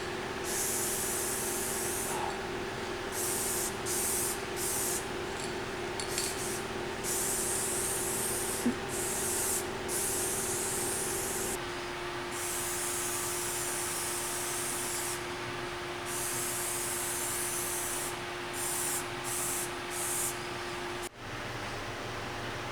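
Black Spray.Bike aerosol paint hisses steadily onto a bicycle frame in long continuous bursts with brief pauses between passes, close and fairly quiet over a faint background hum.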